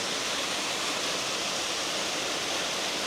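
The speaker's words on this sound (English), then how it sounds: "Looking up to the falls" Waterfall pouring down over a bed of fresh rocks left by recent flooding, a steady, loud, broadband roar with no breaks and no voices.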